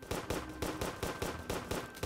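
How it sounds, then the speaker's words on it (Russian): Rapid machine-gun bursts from a gun vehicle in the World Defenders tower defense game, sharp repeating shots at a steady quick rhythm, loud and close with no talking. "Я сделаю еще одну машину с пулеметом."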